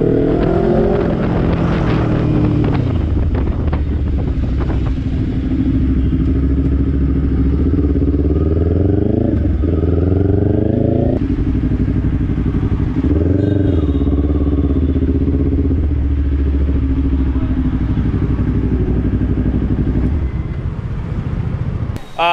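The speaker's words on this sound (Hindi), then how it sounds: "तो ये था इसका एग्जॉस्ट नोट" A Kawasaki Ninja 400 motorcycle idles close by with a steady engine rumble, and the exhaust note swells in a few throttle blips and revs over about twenty seconds.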